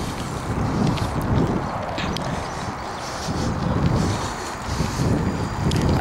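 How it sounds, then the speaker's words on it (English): Steady wind roaring across the microphone on a bicycle ride outdoors, with a loud, gusting low rumble that swells and eases throughout and no voice. "you won't be able to hear me over the wind"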